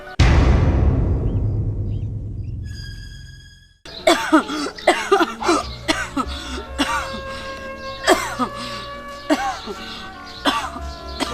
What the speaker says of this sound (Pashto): ټوخی م را باندې لګېده